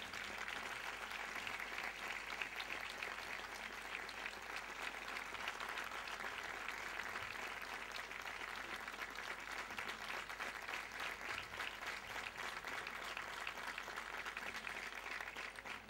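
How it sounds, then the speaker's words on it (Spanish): Audience applause at an award ceremony honoring a religious order's superior in Valdepeñas, a dense, steady clapping from a large crowd sustained for about sixteen seconds with no talk over it. "Un fuerte aplauso para él."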